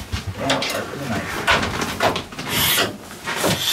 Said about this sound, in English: And I'll sharpen the knife.